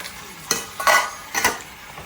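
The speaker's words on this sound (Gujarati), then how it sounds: "જોઈએ કેવા વાસણ ધોવે છે." Dishes and pots being washed by hand, with three distinct clattering knocks of metal utensils against each other over a low wet background, close by and without talk.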